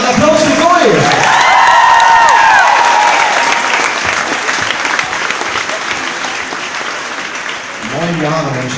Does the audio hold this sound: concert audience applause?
yes